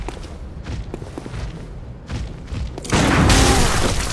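A single heavy gunshot boom in Bloodborne, a 2015 PS4 action RPG, bursts out loud and broad near the end after quieter game sounds and thuds.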